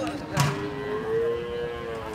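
A single long, low moo from cattle at a cattle market near Dhaka, Bangladesh, fairly close and alone over quiet background noise.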